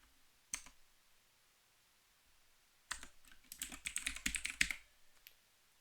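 Clicky keystrokes on a computer keyboard while entering text in writing software, a brief burst near the start, then a pause, then a fast, dense run of typing lasting about two seconds before stopping. Close and fairly quiet, no voices.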